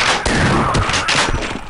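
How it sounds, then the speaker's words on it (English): A shotgun fires in the video game Half-Life 2 Episode 2, a dense burst of loud, close blasts crowding together over under two seconds. "Let's see if this shotgun can shoot through"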